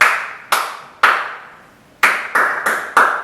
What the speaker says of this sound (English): Start by clapping, because the main thing is to develop your sense of rhythm